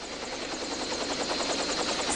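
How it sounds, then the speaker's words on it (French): A helicopter thrums loudly and close, its rotor chopping in a fast, steady rhythm for the whole stretch. "Mais c'est un hélicoptère."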